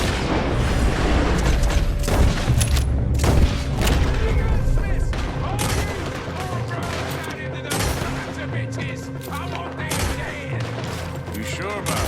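Gunfire in the video game Red Dead Redemption 2, sustained rapid shots and booming reports over a dense, continuous loud mix, with voices talking throughout.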